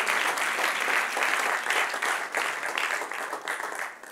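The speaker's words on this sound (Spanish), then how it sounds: "Dale un aplauso al Señor." A church congregation breaks into dense, sustained applause, a loud wash of many hands clapping with a few faint voices underneath.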